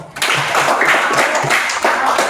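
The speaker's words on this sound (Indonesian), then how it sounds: "tepuk tangan buat Aldo" A class of children in a literacy lesson claps for a classmate, a dense burst of hand claps that starts abruptly and keeps up evenly for about two seconds before fading slightly.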